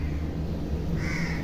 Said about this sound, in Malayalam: 4 കാക്കകൾ